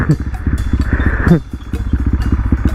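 Yamaha WR motorcycle with a 66cc-bore engine kit revving hard on the road while riding, a loud, close, pulsing engine roar that rises through gear shifts with brief throttle dips.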